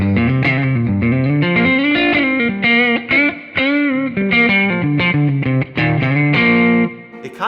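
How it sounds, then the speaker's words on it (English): Distorted electric guitar played through a Kemper Kone speaker with its low-end bass boost engaged, a continuous loud and close chugging riff of sustained and picked notes with chorus-like shimmer and no voices. "Bass boost sounds like this."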